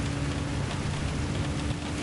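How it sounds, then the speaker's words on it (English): Torrential rain falls in a racing video game with Gr4 race cars, a dense, even hiss of downpour heard steadily and alone for a couple of seconds. "With this much torrential rain,"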